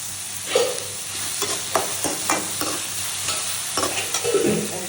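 Green chilies sizzle in a generous amount of hot oil for a Karwar-style prawn gravy tempering, a steady close frying hiss broken by repeated scraping stirs of a spoon against the pan, with no talk.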